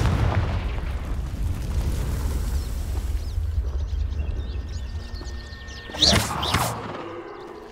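A Confringo fire-blast spell from Hogwarts Legacy goes off as a sharp burst partway through, layered over a steady low rumble of ambient game sound, with a brief crackling tail afterward.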